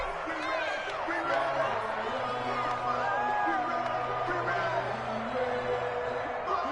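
Stadium crowd in a PS4 football game roars and cheers steadily, a continuous babble of distant voices with occasional whoops, held at moderate level throughout.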